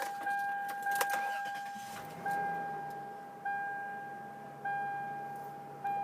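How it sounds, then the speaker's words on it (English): A 1998 Toyota 4Runner Limited with about 201,000 miles runs with the hood open. It gives a steady idle with a sustained whine and regular surges roughly every second, heard close and without talk. "Now I'm going to fire this thing up, open the hood, let you hear it run under the hood."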